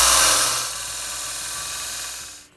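A belt sander roughing down a metal workpiece makes a loud, bright grinding hiss with a steady motor hum beneath, holding for about two seconds before cutting off abruptly.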